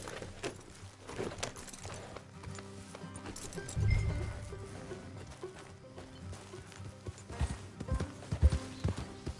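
Rhythmic hoofbeats of a horse in Red Dead Redemption 2 moving along, with a few heavier thumps and faint ambient chirps in the background.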